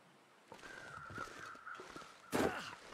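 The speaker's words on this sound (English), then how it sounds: "Oh, I hear crows." Crows cawing in The Long Dark survival game on Timberwolf Mountain: a run of rough caws at moderate distance, building to one louder, harsher burst near the end, with no talking.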